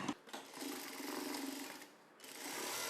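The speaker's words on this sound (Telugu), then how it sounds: "ఇప్పుడు మనం ఈ కుట్టు వేసేసుకోవాలి" A sewing machine stitches a cross-cut blouse in quick buzzing runs, with a short pause before the stitching starts again. It is close and fairly quiet.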